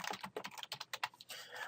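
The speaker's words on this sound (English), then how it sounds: "we can type our title" Someone types a title on a computer keyboard, a quick, close run of a dozen or so crisp key clicks in an irregular rhythm, with no voices.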